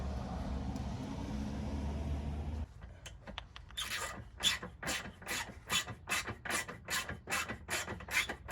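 A ratchet loosens a Torx bolt beneath the removed number plate on a Rover 200 front bumper, at first under a low steady hum, then as a run of quick, even, close rasping clicks.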